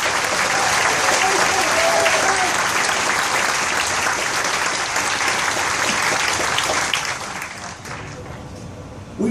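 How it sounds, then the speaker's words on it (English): A concert audience applauds the band in a steady, full wash of clapping, near and loud for most of the stretch before thinning out toward the end. "Give everybody a round of applause."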